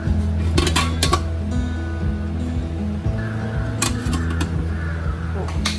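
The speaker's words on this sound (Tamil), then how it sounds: "let's put it into the idli குண்டான்" Vegan momos go into a metal idli steamer pot with a few sharp metallic clinks and clatters over a low background hum, close by.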